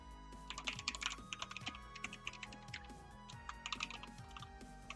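Rapid, uneven clatter of keys on a computer keyboard, typed during an online match stream, runs close and steady for the whole stretch over a soft tonal background.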